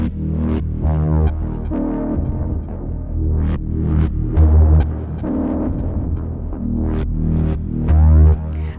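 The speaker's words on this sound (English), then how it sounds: "So the first sound, drone generator," A drone generator synth patch built with Smart Morph on a Yamaha synthesizer, playing alone as a dense, throbbing low drone with rhythmic pulses and bright accents repeating over several seconds, no voices.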